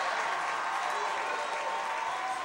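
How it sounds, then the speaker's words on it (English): Spectators at a Richmond versus Connersville high school boys basketball game applaud in a dense, steady wash of clapping and crowd noise that does not let up. "Crowd getting into it now."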